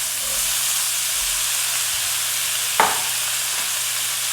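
Red peppers and other vegetables fry in garlic butter in a pan, giving a steady, even sizzle throughout, with one sharp stir or clink near the end and no talking.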